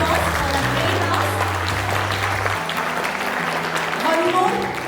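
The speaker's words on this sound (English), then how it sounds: "Give them a huge round of applause for the great house." Applause for a house team at a school quiz competition, a roomful of students clapping steadily for several seconds with some indistinct voices mixed in.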